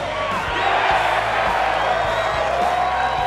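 Large golf gallery around a par 3 at The Barclays cheering and whooping after Phil Mickelson drains a birdie putt from outside 30 feet, a sustained loud roar of many voices.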